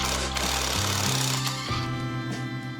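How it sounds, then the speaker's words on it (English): A power tool rattles in quick hammering bursts as it works the 17mm flywheel nut off a badly abused small engine, its pitch stepping up and down over a few seconds, close and fairly loud. "I'm gonna take the flywheel nut out,"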